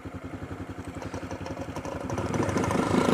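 A Honda CB motorcycle with a loose exhaust runs with a rough, pulsing engine note that rises steadily in loudness as it revs up.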